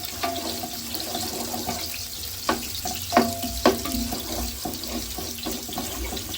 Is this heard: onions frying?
yes